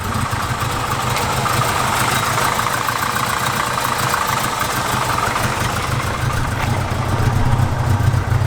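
A Honda engine built into a cheap car runs roughly at idle, a steady close engine drone with slight uneven vibration throughout, no talking.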